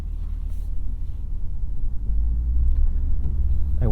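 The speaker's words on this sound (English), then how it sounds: "let's go ahead and take this Fuji Edition RCF for a drive and see what it's like on the road" A 2021 Lexus RC F Fuji Edition on the road, heard from inside as a loud, steady low engine and road rumble that swells slightly midway.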